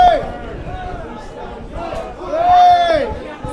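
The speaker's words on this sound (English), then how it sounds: "the home supporters are cheering everything they can now" Home rugby supporters at a Barnstaple versus St Austell match cheer and shout from the stands, a loud crowd roar swelling toward the end with a commentator talking over it.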